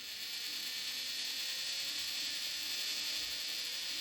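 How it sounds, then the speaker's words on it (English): A small DC motor, its speed set by a potentiometer, whirs with a steady high-pitched whine and faint mechanical ticking, quiet and continuous. "The motor is rotating now."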